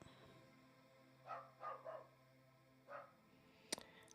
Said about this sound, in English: If you heard that barking.